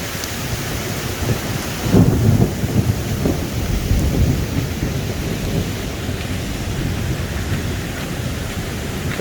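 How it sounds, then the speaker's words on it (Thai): Heavy rain pours steadily near a small waterfall at a Saraburi reservoir, a dense, close roar of rain and rushing water with no voices. "ฝนตกแรงครับน้ำไหลเต็มเลย"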